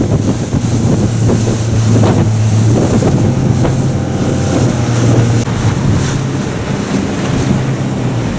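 Motorboats speeding across the water during a walrus hunt in Chukotka: an engine drones loudly and steadily while the hull slaps through waves, with heavy wind buffeting throughout.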